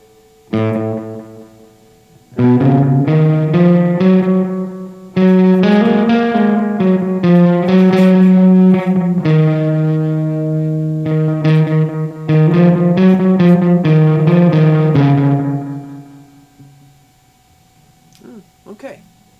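Electric guitar played through a Boss DD-500 delay pedal, several loud melodic phrases of sustained notes with echo repeats trailing after each, ending in fading delayed taps.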